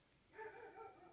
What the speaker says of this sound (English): Sorry about my dog barking in the background.